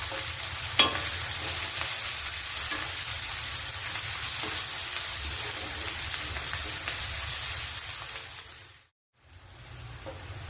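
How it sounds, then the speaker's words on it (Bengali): Chopped onions sizzle in hot oil with black cumin, a steady dense frying hiss close by, with occasional stirring clinks and a brief drop-out near the end. "ফোড়নটা একটু ভাজা হলেই এর মধ্যে দুটো পেঁয়াজ কুচিয়ে রেখে দিয়েছিলাম সেটা দিয়ে দেবো"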